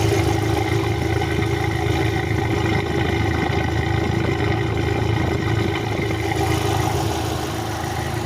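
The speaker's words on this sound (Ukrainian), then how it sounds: "Послухайте, настільки е рівно працює двигун." A 2007 Chery Amulet engine idles at a steady, even rumble with no stumbles, heard close and continuous on its own with no talking.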